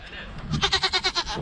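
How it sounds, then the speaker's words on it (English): A mini goat on a Vermont farm bleats in a quick wavering series of about six pulses, close and fairly loud, over a low background rumble. "From mini goats"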